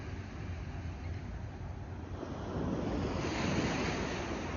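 Night surf at Atami rolls onto the beach in a constant hiss and rumble, building louder in the second half as a wave breaks nearby, with light wind noise and no voices.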